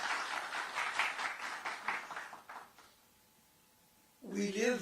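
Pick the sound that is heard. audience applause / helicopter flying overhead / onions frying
audience applause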